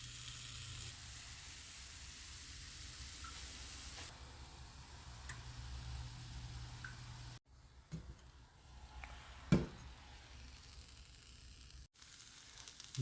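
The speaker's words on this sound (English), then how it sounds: "Over here we have parsley, onion, and pepper sauteing." Parsley, onion and pepper sauté in a pan, giving a faint, steady sizzle under low room noise. A few small ticks and clicks break it, including a sharper knock near the middle and a brief pause partway through.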